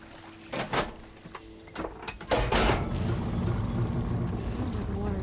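Water flow switching over in the video game Horizon Forbidden West: a few sharp mechanical clunks and thuds, then a sustained broadband rush of flowing water that continues steadily to the end.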